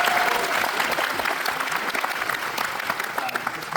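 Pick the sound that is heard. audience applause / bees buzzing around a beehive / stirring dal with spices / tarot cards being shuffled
audience applause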